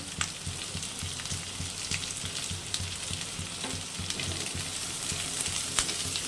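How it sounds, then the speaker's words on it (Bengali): Roughly cut onions lightly frying in a wok make an even, close sizzle, with regular stirring scrapes ticking through the crackle and nobody speaking. "পেঁয়াজটা হালকা ভাজবো"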